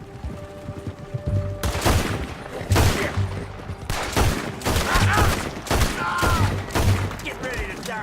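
Gunfire in Red Dead Redemption 2 cracks out in a rapid string of loud, sharp shots, some in quick bursts and others spaced apart, over a low background hum.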